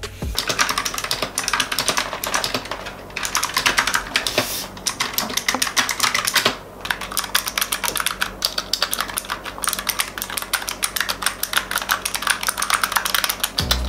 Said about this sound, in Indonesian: keyboard ini gue pakai yang clicky ya, jadi which is itu yang berisik dan kalian mau denger gak suaranya?